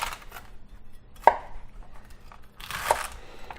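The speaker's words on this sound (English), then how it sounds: "I cut the ends off like this, and then I cut it into pieces like this" A knife chops celery stalks into pieces on a board, with two crisp, separate cuts about a second and a half apart and quiet rustling between them.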